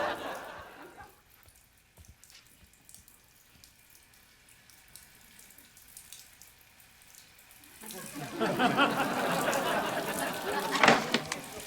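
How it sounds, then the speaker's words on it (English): A bathtub tap left running fills the tub in a sitcom household. The sound starts as a thin trickle under a quiet stretch, then swells into loud, steady rushing water. "You left the tub on! There's water everywhere!"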